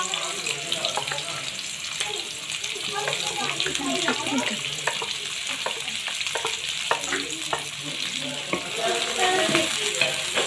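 Onions frying in half a cup of hot oil, a steady close sizzle with scattered crackles and pops running continuously throughout, with no talking.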